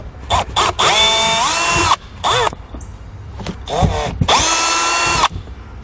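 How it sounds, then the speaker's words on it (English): A power drill with a Phillips bit backs Phillips screws out of a trim panel on a 2019 Honda CR-V. Several loud, close whirring bursts of varying length come with short pauses between them. "we'll grab a Phillips bit and we'll pull those Phillips screws out"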